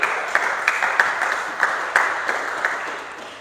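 Congregation clapping in a church during a French-language service, a brisk patter of applause with sharper accented claps, steady and fairly close.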